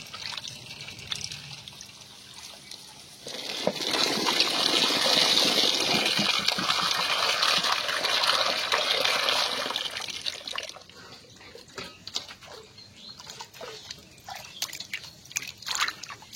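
Flour dough being washed by hand in a bowl of water, steady sloshing and gushing that swells loud for several seconds, then gives way to softer dripping and trickling splashes.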